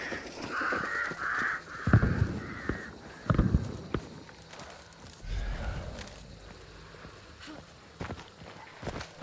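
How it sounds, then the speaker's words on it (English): Crows cawing in the Hunt: Showdown video game, several harsh calls in short bursts across the first few seconds, moderately loud over footsteps and low thuds, then fading. "these crows are in such a bad position"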